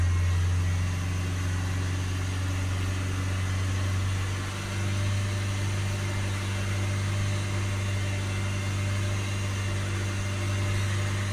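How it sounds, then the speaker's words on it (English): A steady, droning Renault Trafic van diesel engine hum held at constant revs, loud and close with a low rumble throughout and no voices. "Let's hold the revs up."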